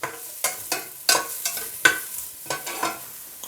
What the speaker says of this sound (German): dann als nächstes die Zwiebel rein. So, schön anschwitzen lassen ein bisschen